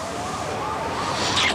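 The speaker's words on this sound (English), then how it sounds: "It sounds like every squad car in town is headed through the park." Wailing sirens rise and fall over steady traffic noise, sounding somewhat distant, with a sharper tone briefly cutting in near the end.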